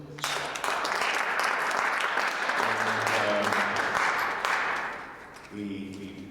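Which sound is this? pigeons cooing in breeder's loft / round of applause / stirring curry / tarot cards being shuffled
round of applause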